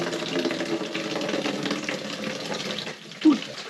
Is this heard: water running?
yes